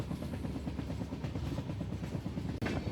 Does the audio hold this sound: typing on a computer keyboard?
no